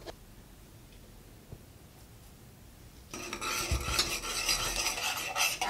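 A creamy white sauce for pasta is stirred in a pan, quiet at first, then a louder scraping, bubbling stir with utensil clinks fills the second half, close and continuous with no talking.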